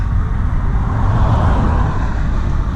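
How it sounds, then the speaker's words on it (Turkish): Steady, continuous road traffic rumble on a main road near Niğde, Turkey, with heavy low-end hum, vehicles droning by at a constant level with no voices. "araba gürültüsünü kameraya yansıtacağıma ya da arabaları çekeceğime çekmem daha iyi"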